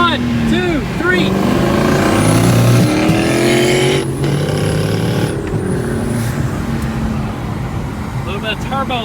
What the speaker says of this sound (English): Shoot, son, he's warming up them tires.